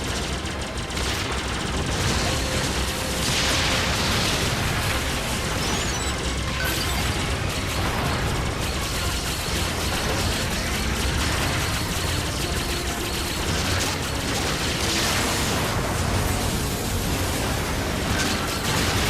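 Missiles being destroyed in the Star Fox Zero game set off continuous dense explosions and blasts, a steady loud barrage of bursts and pops with no gaps across the whole stretch.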